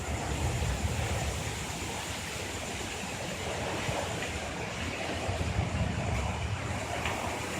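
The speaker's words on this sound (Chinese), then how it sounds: "目前开始刮大风了" Strong wind roars steadily through a wet-season night in Broome, a dense continuous rush with no pauses and no voices.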